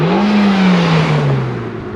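A Honda Civic Type R engine roars up close, its pitch rising then gradually falling as it passes and moves away.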